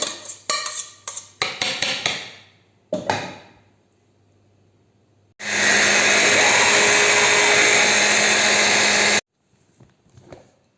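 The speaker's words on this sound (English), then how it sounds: "Let's make puree into food processor, squash and potato" A food processor purees cooked squash and potato, starting with several short loud pulses, then running in one continuous high-pitched whirr for about four seconds before stopping, followed by faint clinks.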